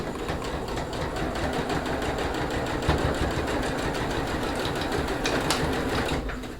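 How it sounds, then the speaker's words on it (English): A sewing machine stitches the corner of a zipper bag, including some back-stitching, in a fast, even mechanical chatter that runs steadily and close for the whole stretch, with no talking. "flatten it, and then stitch. Now on this part, I do want to back stitch to make sure that it does not unravel."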